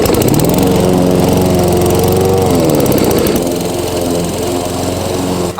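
Lawn mower engine running loud and close, a steady droning hum that dips in pitch briefly before settling back to a constant rumble.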